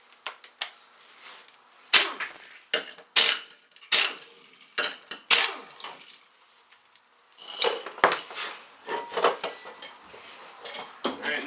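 An impact driver works on a Kawasaki KVF650 Brute Force ATV wheel in a garage, firing a string of sharp rattling bursts close by with quiet pauses between them, then a denser run of hits toward the end.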